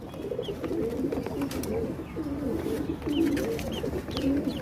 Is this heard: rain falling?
no